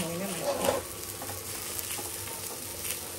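Oil sizzles on a hot tawa griddle while Malvani seafood is cooked. A soft, steady hiss runs throughout with a slightly louder burst near the start. The sound is faint, with a little background noise.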